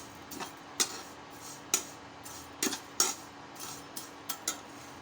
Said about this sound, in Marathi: शेवया मी थोड्याशा परतून घेणार आहे तुपामध्ये थोड्या वेळच परतून घ्यायच्या